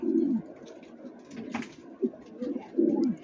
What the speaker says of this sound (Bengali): খাঁচাগুলো ভেঙে ফেলছে দেখুন আমাদের মন্ডিয়ান কবুতর